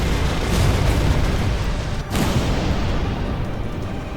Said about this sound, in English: Short range warp. Assault guns, fire!